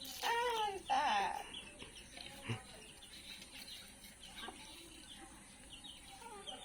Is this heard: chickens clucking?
yes